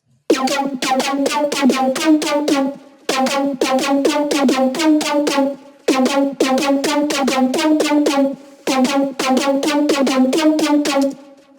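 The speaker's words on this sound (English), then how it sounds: "I'm gonna play you the lead. It sounds like this." Synth lead patch recreating a track's lead, a bright buzzy riff of rapid stuttering notes played in four repeated phrases with short gaps between them, loud and alone without speech.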